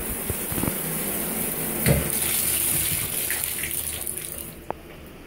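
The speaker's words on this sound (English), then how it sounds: "That is some good pressure from that shower head." Water sprays steadily at good pressure from a hotel shower head with a constant splashing hiss, broken by a few knocks and a sharp click near the end.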